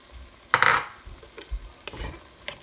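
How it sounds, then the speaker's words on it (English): Chopped tomatoes tipped into a pan of sizzling ginger garlic paste, green chilies and fried onion over a medium flame, with a soft sizzle and a few stirring scrapes, heard alone and fairly quiet. "I'm going to add the chopped tomatoes"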